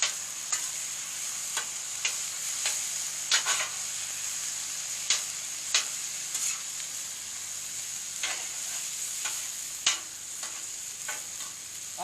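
Shrimp fried rice with soy sauce sizzling steadily in a hot pan, with a scraping spatula stirring it in repeated sharp strokes over the constant hiss, close up and without talk.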